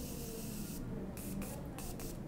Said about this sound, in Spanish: setting spray donde están las partículas de mica